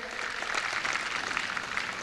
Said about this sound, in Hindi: जोरदार तालियां बजाकर इनका स्वागत करें।